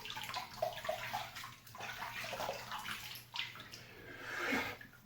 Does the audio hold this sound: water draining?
yes